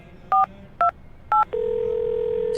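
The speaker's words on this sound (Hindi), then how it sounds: "मैंने एक नंबर मिलाया" A phone keypad plays three short two-tone dialing beeps at an even pace, then a steady tone holds to the end.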